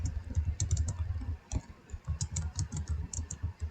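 Fast, continuous typing on a computer keyboard close by, a dense patter of clicks with a brief pause midway, no voices.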